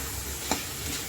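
Mutton pepper fry being stirred in a hot pan, a short burst of close sizzling with one sharp scrape of the utensil against the pan.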